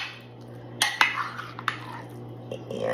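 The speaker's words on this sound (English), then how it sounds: "And we'll spoon that out, put it on the plate." Sweet potato and pineapple casserole with cranberries and pecans scooped onto a plate, a few sharp spoon-on-dish clinks and scrapes over a quiet room hum.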